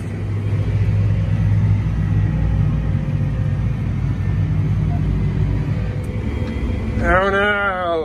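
Steady vehicle rumble and road noise from a tractor rig driving down a road while planting Virginia peanuts, loud and continuous throughout, with a brief voice near the end.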